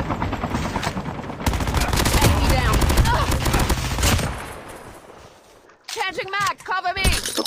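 Rapid bursts of automatic gunfire crackle steadily for several seconds, then fade as a voice speaks over the quieter end.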